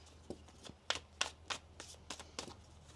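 Tarot cards shuffled by hand, a series of crisp riffling bursts and soft shuffling taps in an uneven rhythm, close and fairly quiet with no talking.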